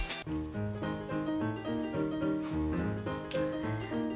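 Ragtime piano music plays alone, with a bouncy, steady rhythm of repeated chords and a bright melody line over a bass.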